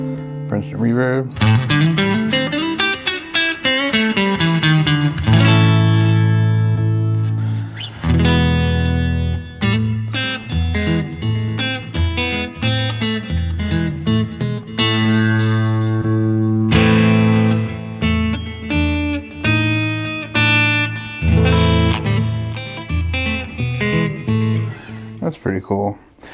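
Electric guitar through a Fender Tone Master Pro's Princeton Reverb amp model, clean, slightly driven tone playing a melodic riff of single notes and chords, loud and continuous.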